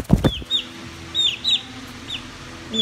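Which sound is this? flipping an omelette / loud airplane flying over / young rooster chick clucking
young rooster chick clucking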